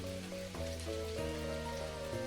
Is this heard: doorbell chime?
no